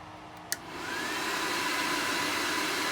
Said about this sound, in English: We will start it with the bleeder valve open, and then once it's rotating, we will close the bleeder valve and let it pump up and stop.